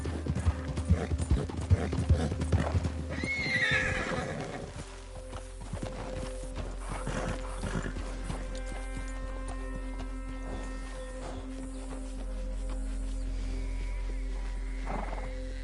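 Horse hooves in the video game Red Dead Redemption 2 clip-clop in a steady rhythm, then slow and stop; a low ambient hum continues afterward, with no talking.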